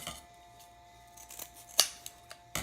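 Scissors snip through a fuzzy chenille stem while making a sunflower wreath craft, one sharp close cut standing out from quiet room tone, with a couple of softer clicks after.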